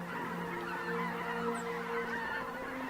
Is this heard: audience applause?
no